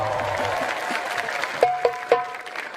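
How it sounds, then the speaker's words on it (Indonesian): Congregation applauds during a sermon by Habib Reza Syahab: a close, steady patter of clapping for about a second and a half, then a few distinct claps with short ringing tones as the applause dies down. "Tepuk tangan dulu dong."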